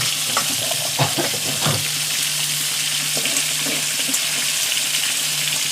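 Eggplant frying in oil with dried prawns, a steady loud sizzle with stirring scrapes and clinks near the start, continuous and close throughout, no speech.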